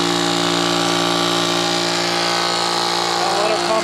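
An old air compressor, fitted with a new O-ring, runs and pumps up, giving a loud, steady motor drone with a constant mechanical hum that stays even, close and alone.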